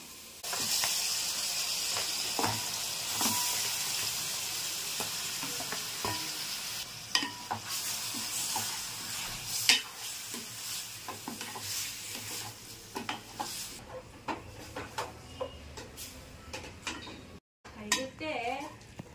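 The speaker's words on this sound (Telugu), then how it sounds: "ఇప్పుడు నేను కడిగి పెట్టుకున్న ఈ యొక్క చికెన్ని ముందుగా వేసుకుంటున్నాను" Washed chicken pieces drop into a hot pan of frying onion and masala for a home-style chicken curry, giving a steady sizzle with frequent spoon scrapes and metal clinks against the pan, and a voice talks at times.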